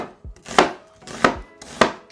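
A knife chops an onion into chunks for chicken fried rice, giving three crisp, evenly spaced chops on a board, close and clear with nothing else heard.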